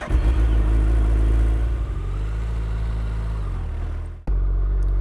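A Suzuki Hayabusa Gen 3 sport motorcycle engine runs with a loud, steady low rumble close by, its pitch shifting slightly before cutting off near the end and resuming as a deep idle.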